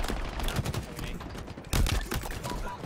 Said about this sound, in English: Oh my god, this our alley shooting me.